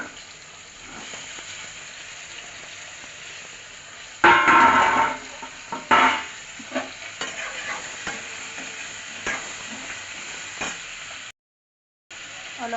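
Lesera fish and potato pieces sizzle and fry in a pan with browned onions, a steady hiss broken by louder bursts of spattering and stirring scrapes, dropping out briefly near the end.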